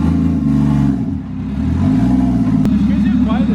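A car engine with an open downpipe idles, then revs up and settles back down, a steady close engine drone with rising and falling pitch, fairly subdued for a car with no downpipe restriction.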